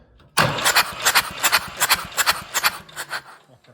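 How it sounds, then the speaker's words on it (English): A Mitsubishi D1800 diesel engine cranks over on the starter without firing, with the injectors removed, in a steady series of rhythmic compression pulses, close and loud, with no talk. "it really helps to have the fuel lever not in shut off, you know, somewhere in the middle when you're cranking looking for fuel"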